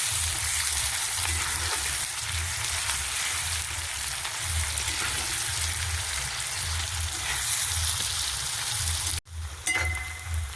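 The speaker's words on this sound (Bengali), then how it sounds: "পেঁয়াজটাকে একটু লাল লাল করে ভেজে নেব।" Onion fries in oil in a pan with a continuous close crackling sizzle and faint stirring. Near the end there is a brief dropout, then a clatter.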